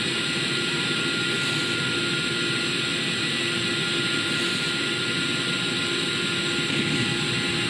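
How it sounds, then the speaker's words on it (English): Hornet jet engines on a spaceplane in the video game Kerbal Space Program give a loud, steady whining roar that holds constant throughout, with no voices. "These are the Hornet engines."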